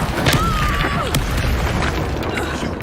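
A fiery Confringo spell explodes in Hogwarts Legacy, a loud dense boom with a crackling rumble sustained through the short clip, a brief voice present.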